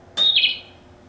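A single bird chirp rings out sharply, a bright whistled note that rises then dips, followed by a quiet tail.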